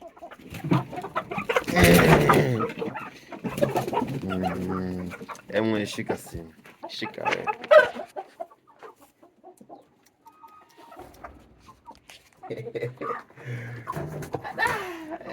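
Chickens and chicks cluck and peep near a keeper, mixed with loud nearby talk and brief animal calls at a small poultry farm.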